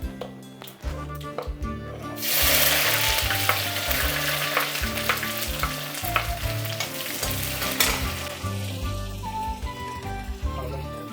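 Onions hit hot oil with popping mustard seeds, and a loud, dense sizzle flares up and keeps going while stirring adds scattered crackles and pops. The sizzle is close and steady, with low rumbling under it.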